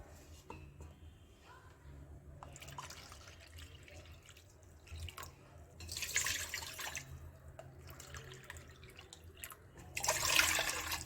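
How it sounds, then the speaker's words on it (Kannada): Water from a cup is poured in several separate splashing bursts into a large pot sitting on a stove, about four cups in all, with quieter kitchen clatter and dripping between pours. "ಅದರಲ್ಲಿ ನಾನು ಈ ಕಪ್ಪಲ್ಲಿ ಒಂದು 4 ಕಪ್ಪಷ್ಟು ನೀರನ್ನ ಹಾಕ್ಕೊಳ್ತಾ ಇದ್ದೀನಿ"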